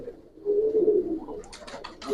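A Giribaz pigeon at a loft gives a low, rolling coo lasting about a second, followed by a few quieter flutters and rustles nearby.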